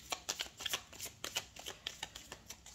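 Tarot cards are shuffled close by in a quick series of soft riffling bursts, each a brief papery flutter, repeating rhythmically for a few seconds with no talking.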